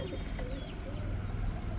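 A male pigeon pecks and coos nearby, a soft low throaty cooing that repeats faintly over a brief stretch.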